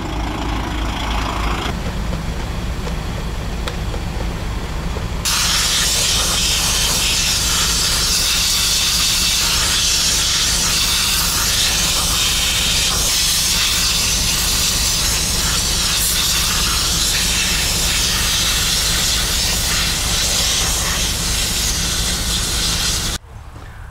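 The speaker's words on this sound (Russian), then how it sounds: "надо идти дуть фильтр" Compressed air blasting through a truck's air filter, a loud continuous roaring hiss that jumps sharply in intensity after a few seconds and holds steady before cutting off abruptly, with no talking.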